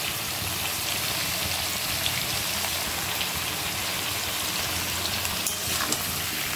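Fish frying in a pan with ginger garlic paste and salt for a Bengali recipe, a dense, even crackling sizzle that runs steadily throughout without talk.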